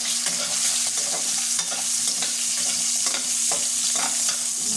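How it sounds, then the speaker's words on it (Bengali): Potatoes frying in hot oil give off a steady, close sizzle, with a stirring clatter coming back at a regular rhythm and no voices. "আমার আলুটা ভাজা হয়ে গেছে প্রায়"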